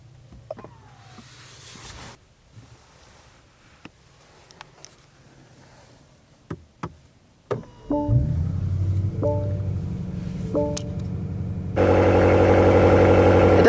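BMW 760i: a few clicks and door or window thumps, then the engine cranks and catches into a steady close idle, and the exhaust grows louder and rougher at the end.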